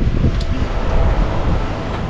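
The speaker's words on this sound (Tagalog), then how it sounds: "Ay, at mahangin pa." Steady, loud outdoor wind buffeting the microphone as a continuous rushing roar with no talk.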